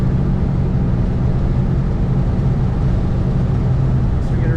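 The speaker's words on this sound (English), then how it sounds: "Getting a nice ride for a Volkswagen Beetle." A 1968 Volkswagen Beetle on the move, heard from inside as a loud continuous low engine drone and road rumble, steady throughout with no change in pace.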